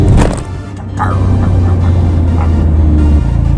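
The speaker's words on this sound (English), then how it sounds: "Engine braking, very cool." A Smart car engine drones low and steady through the exhaust as it engine-brakes while decelerating, a close, continuous rumbling hum with no talking.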